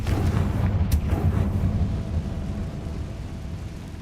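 A Confringo fire-blast spell from Hogwarts Legacy bursts with a loud, booming explosion that rolls out into a rumbling decay, heard alone without speech.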